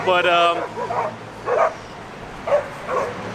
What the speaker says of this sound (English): dogs are hunting people on the bikes